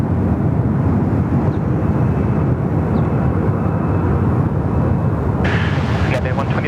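A Vietnam Airlines airliner on the runway at Sydney Airport, a loud, steady jet engine roar heard from outdoors with wind buffeting the microphone, continuous throughout.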